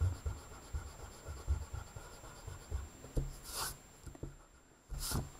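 A pencil eraser rubs lines off paper in quick, soft scratchy strokes, near and steady, broken by a short pause and a couple of brighter brushing sweeps.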